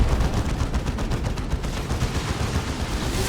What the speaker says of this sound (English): Here's that Baneblade bristling with guns, 2 las cannons, I think 2 twin-link heavy bolters, and that massive